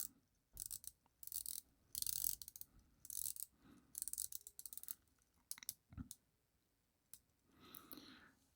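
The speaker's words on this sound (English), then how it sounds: "So let's check out the bezel action." A watch bezel is turned by hand, giving close, crisp bursts of rapid ratcheting clicks separated by short pauses, quiet and alone.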